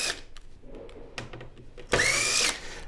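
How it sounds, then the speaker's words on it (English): Black screws being removed from the back plate of a Sony XBR-75X850C 75-inch TV, heard as faint ticks and then a short, loud whirring burst like a powered screwdriver, with no talking. "take these 2 black screws at the bottom of this plate off"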